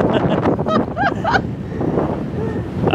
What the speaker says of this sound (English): Is it windy? Oh my gosh, yes. You're gonna get blown away.